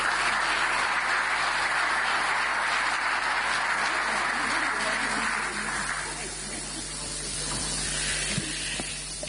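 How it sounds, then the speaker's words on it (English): Sustained applause from a conference audience at an EU–AU summit in Angola, a dense steady patter that holds evenly for several seconds and then thins slightly toward the end, heard without speech over it. "Give her a warm round of applause."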